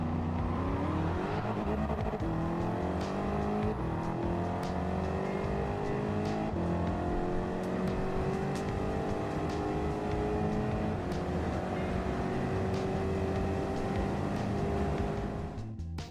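A Nissan GT-R R35 carrying a swapped Bugatti engine in Gran Turismo 7, revving hard with steady rising pitch sweeps through the gears, loud and continuous for the whole stretch, no talk.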